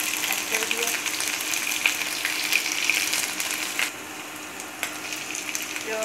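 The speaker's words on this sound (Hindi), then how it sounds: "लाइटली फ्राई हो गया" Garlic and green chili frying in hot oil, a steady close sizzle with small crackles and faint stirring throughout.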